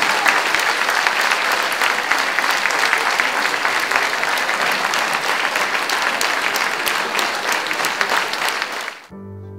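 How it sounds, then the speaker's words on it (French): Audience at a tribute concert in Escautpont applauding a guest and a deputy, dense sustained clapping that holds steady for several seconds before cutting off abruptly. "Et on peut l'applaudir, Madame Colette Ferrat et Monsieur Alain Bocquet"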